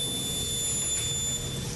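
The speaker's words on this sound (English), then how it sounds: "That long beep that you heard now tells me and the person I'm talking to that the actual video has turned off." A police body-worn camera gives a long, steady electronic beep as video recording stops, sustained and fairly loud against a faint background hum, with no talking.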